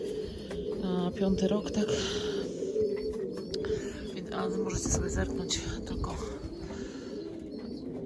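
Pigeons cooing and calling around a loft during a racing flight, their low burbling calls mixed with chirps, heard under someone talking nearby.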